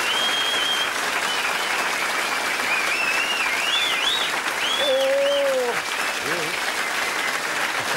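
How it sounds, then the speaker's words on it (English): A TV studio audience on The Don Lane Show in Australia, 1983, gives a guest sustained, dense applause that fills the whole stretch, with a voice and whistles heard over it. "You sure you don't have a machine down there with all that applause?"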